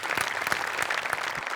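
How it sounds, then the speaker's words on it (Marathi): Enthusiastic audience applause at a Marathi television comedy show, a full, even burst of many hands clapping with a few sharper claps poking through. "नमासाठी पण एकदा जोरदार टाळ्या व्हायला पाहिजेत"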